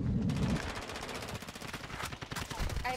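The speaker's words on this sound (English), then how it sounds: "I'm shooting him." Rapid automatic gunfire in the video game Rebirth, a dense stream of close, fast shots rattling continuously for a few seconds, with no voices over it.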